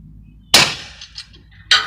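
Homemade grappling gun firing, a sharp snapping pop followed by a few faint metallic clicks and ticks, then another crisp pop; close and dry with no talk.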